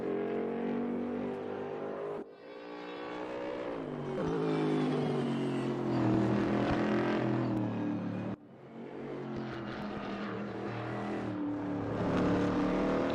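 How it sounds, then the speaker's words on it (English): A Chevy GT3 race car in a racing video game at the Spa circuit roars loudly as its engine revs up, with sharp drops and cuts between gear changes before climbing again, a close, sustained engine note with no talk. "It's a nice car, the Chevy. It's very nice and it sounds even nicer."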